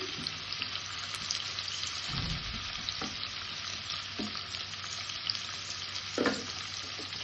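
Garlic and onion tempering fries in a pan, a steady close sizzle with a few stirring scrapes and clinks throughout, no voices.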